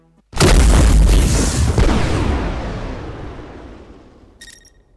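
A single loud, close boom from turret fire in the video game Battle Fortress Terra hits hard and rumbles away over several seconds, with a faint electronic ping near the end.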